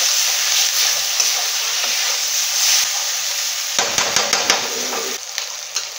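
Garlic and ginger paste fries loudly in a pan with a steady hissing sizzle, close up, and a burst of clattering stirring strokes toward the end.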